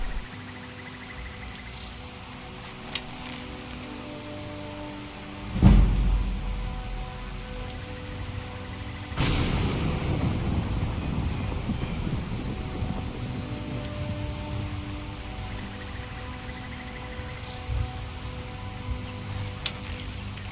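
Steady rain falls in the Skyrim video game world, a continuous hiss of drops on surfaces, broken by a sharp thud near the middle and a sudden louder swell of rain or wind partway through.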